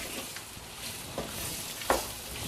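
Gooseberries simmer in oil for a pickle, giving a steady soft sizzle with a few light stirring clinks and scrapes close by, no voices.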